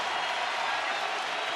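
Fans at a Rangers baseball game cheering pitcher Joe Nathan in the ninth inning, a steady wash of crowd roar and clapping, loud and unbroken, with voices blended into the din.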